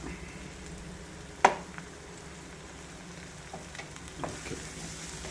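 Chicken pieces cooking in a pan with spice powder for a chicken curry dosa give a low, steady sizzle with a sharp clink near the start and a few soft scrapes as the mixture is stirred.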